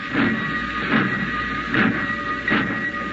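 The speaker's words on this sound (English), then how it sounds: "He watched the black train. He didn't move all the time it was going." A train pulls away from a station platform in a radio drama, heard as steady rhythmic chuffing pulses repeating about every three-quarters of a second over a continuous rumble, fairly close and without voices.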